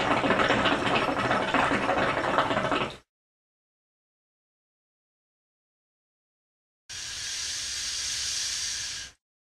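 A hookah fitted with a plastic bead in its purge valve is blown through in two strong hissing bursts, about three seconds and two seconds long, separated by silence.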